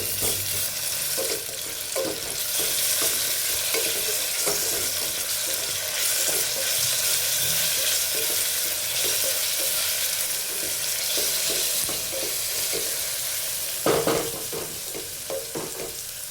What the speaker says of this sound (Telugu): నేనైతే ముందుగా నూరి పెట్టుకున్న ఆ పేస్ట్ వేసి కలుపుకుంటున్నా.